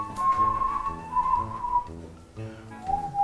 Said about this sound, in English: I'm not a fan of your whistling.